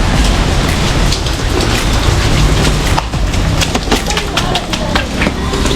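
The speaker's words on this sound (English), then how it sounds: "I love the rain here because it is refreshing." Steady, loud rain pours down on a building site in the Philippines, a dense patter of drops on hard surfaces throughout, with a voice speaking over it.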